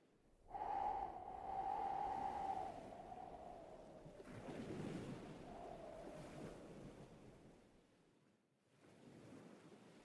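A slow wash of sea waves swells and recedes in broad surges, mixed with wind buffeting and a breathy tonal whoosh early on, moderately quiet with no voices.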